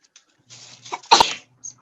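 A single sharp human sneeze bursts out indoors during an online lesson, preceded by a short inhaled buildup and followed by a faint trailing breath, loud and close with no talk over it.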